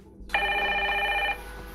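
In the audio game Evidence 111, one clear telephone ring sounds after a brief silence, holding steady for about a second before stopping, close and alone over a low background hum.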